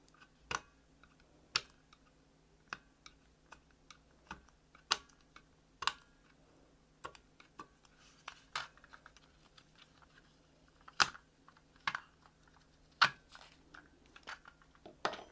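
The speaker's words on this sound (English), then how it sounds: "there's going to be a little sticker here and you have to peel that off" A sticker is peeled off a Logitech M240 mouse during a teardown. Quiet, close, sharp clicks and ticks sound at irregular intervals, with faint scratchy handling between them.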